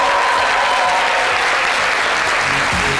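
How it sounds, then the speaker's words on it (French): A studio audience claps loudly and steadily for a woman guest on a midday television talk show, dense applause filling the whole moment with no talk over it. "je veux entendre encore plus d'applaudissements"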